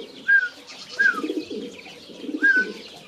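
A young pigeon chick coos three times in short, soft, warbling calls spaced about a second apart, close by, with no voices.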